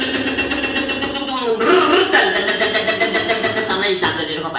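A man vocally imitates a Royal Enfield Bullet motorcycle engine, producing a loud, close, rhythmic thumping putter that swells and steadies like revving and idling.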